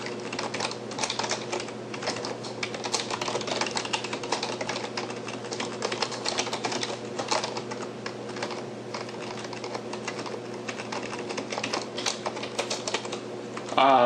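Rapid keystrokes clatter on a computer keyboard, continuous and close, with a steady low hum beneath and no talking.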